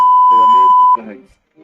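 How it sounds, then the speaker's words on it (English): A loud steady censor bleep tone runs for about a second, laid over a man's speech to mask a name, before his talking continues briefly. "let's beep out his real name in post"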